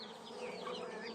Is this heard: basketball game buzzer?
no